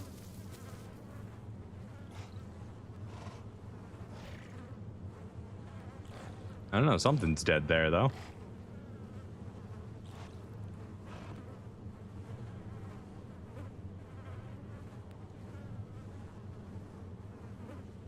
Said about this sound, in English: Oh, bees! Angry bees.